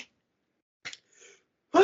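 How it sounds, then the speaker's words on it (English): A single sharp sneeze bursts out at the end, preceded by a short breathy intake and faint sniffing in a quiet room. "So I'm gonna sneeze, hold on."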